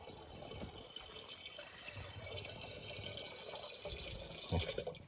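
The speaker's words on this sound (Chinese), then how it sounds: "现在我们这个第一个桶就快装满了" Water running steadily into a camping water container during a test of an outback road-trip water supply setup, a continuous close pouring and trickling with a brief louder splash near the end.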